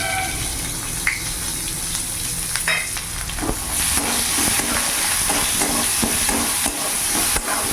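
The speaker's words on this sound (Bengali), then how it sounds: "এরই মধ্যে এখানে একটা পেঁয়াজ কুচো দিয়ে দিলাম" Chopped onion frying in hot oil with cumin seeds and a bay leaf, a steady close sizzle and hiss with stirring scrapes and clinks running through, no talk.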